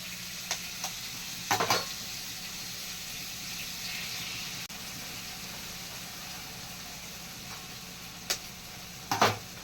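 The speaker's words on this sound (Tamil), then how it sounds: "காலிஃப்ளவர் வெந்துருச்சு. இப்போ அந்த முட்டையை ஊற்றிக்கலாம்." Cauliflower frying in a pan gives a steady low sizzle, broken by a few sharp bursts of spatula scraping and clatter near the start and end, with egg poured over it and no voices.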